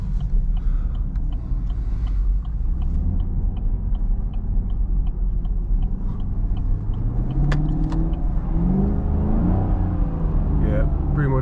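A Camaro LT1 drives in Sport mode with traction control off on a snowy road, its engine a steady close rumble that rises into revving toward the end, with a person talking over it.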